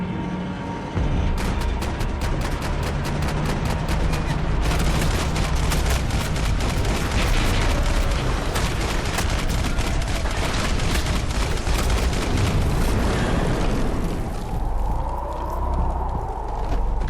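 Gunfire in a Max Payne 3 shootout: dense rapid bursts of automatic fire crackle almost continuously, loud and close, thinning out near the end.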